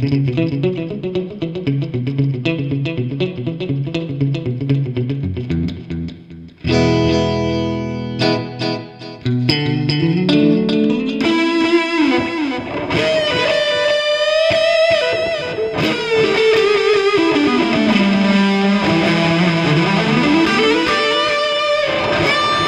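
Electric guitar played through a JHS 3 Series delay pedal, its clean digital repeats trailing each note and chord; loud and continuous, with sliding lines and sustained tones, no voices.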